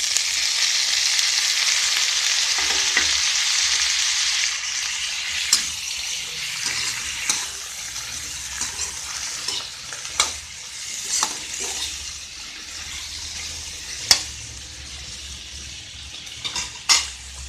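Drumstick and tomato curry frying in a pan, a steady close sizzle broken by scattered scrapes and clinks as the spoon stirs against the metal.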